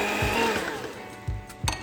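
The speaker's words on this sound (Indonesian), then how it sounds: "Kalau udah seperti ini langsung aja kita mixer dengan kecepatan kecil dulu." An electric hand mixer whirs at low speed through a vegetable ice cream batter, a short steady buzz with a few bumps of the beaters against the bowl.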